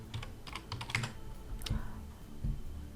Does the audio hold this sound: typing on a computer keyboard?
yes